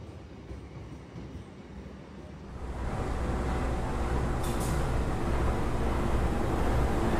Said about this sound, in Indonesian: Yang melintas ini adalah kereta parsel ya